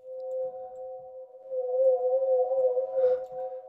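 A sustained synth tone with a gently wavering, shimmering chorus effect, held steady for a few seconds with faint noises behind it.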